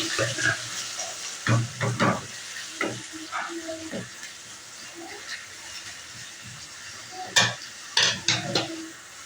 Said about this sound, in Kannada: ಈರುಳ್ಳಿ ಚೆನ್ನಾಗಿ ಫ್ರೈ ಆಗಿ